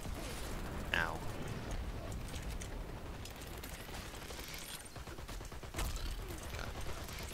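Rapid gunfire and mechanical weapon clatter fill a match of the online shooter Dirty Bomb, a dense steady barrage with a few sharper bursts, mixed with game effects throughout.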